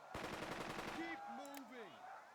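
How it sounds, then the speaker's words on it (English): Machine-gun bursts from the Burden of Command war game, a rapid rattle of shots that dies away after about a second, leaving tonal effects beneath quiet background. "We're taking fire!"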